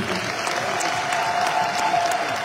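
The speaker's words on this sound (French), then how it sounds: "S'il vous plaît, tous vos applaudissements, bien entendu." An audience applauds after a national ballet performance, steady clapping from a crowd filling the whole stretch at even strength with no voices on top.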